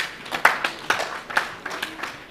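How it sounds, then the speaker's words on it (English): Audience at a conference session applauding the speakers, with scattered, uneven claps from a modest number of people, moderately close and without talk. "a big round of applause to our speakers"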